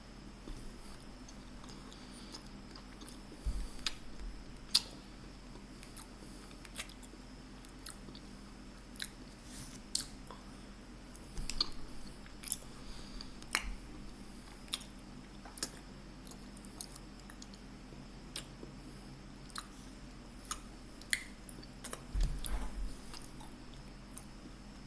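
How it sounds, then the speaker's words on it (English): A Mr Beast Feastable peanut butter chocolate bar is chewed close up, giving irregular crunchy bites and soft mouth squishes over a quiet background, with no talking. "let's go ahead and try Mr. Beast's Feastable Peanut Butter Chocolate Bar"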